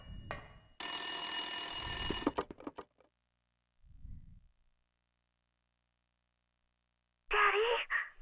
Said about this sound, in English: I'm going to recommend that you don't answer the phone. Could be a salesman.